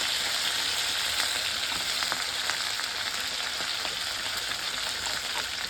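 Green chillies fry in hot oil in a pan, giving a steady, dense sizzle with faint crackles, close and continuous with no talking.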